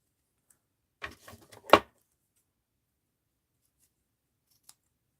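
A few quick snips of scissors trimming paper, close and crisp in a short cluster followed by near silence and one faint tick.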